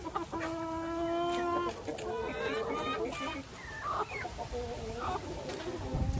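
Young roosters and hens in a backyard flock cluck and squawk near the microphone, with a drawn-out crow-like call at the start and several shorter clucks following, over a low background hum.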